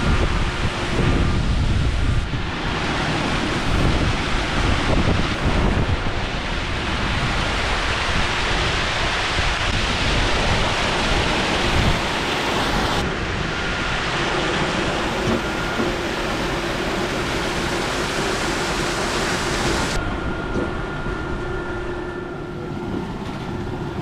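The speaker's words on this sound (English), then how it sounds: "We're gonna run up here and see if we can watch this classifying tank drain out." Water rushing steadily out of a classifying tank at a gold dredge plant, a loud, continuous broadband roar with shifting turbulence lasting throughout.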